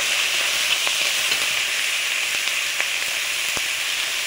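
Banana flower dropped into hot oil gives a loud, steady sizzling hiss that runs unbroken, with a few faint pops and crackles scattered through it.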